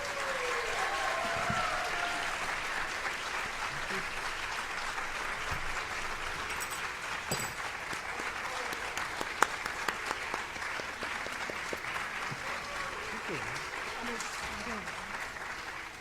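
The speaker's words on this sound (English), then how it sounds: "Can you please give our incredible orchestra another round of applause?" An audience applauds an orchestra after a dance arangetram performance, sustained dense clapping throughout at a moderate distance with no pauses.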